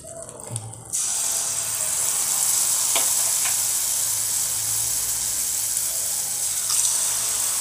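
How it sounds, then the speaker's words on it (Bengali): Banana malpua batter hits hot oil in a pan, a sudden loud sizzle that starts about a second in and holds as a steady bright crackle, with a couple of faint spoon clinks and no talking. "দুটো দুটো করে ভাজবো একসাথে, বা অনেকগুলো দিলে এদিক ওদিক লেগে যাবে।"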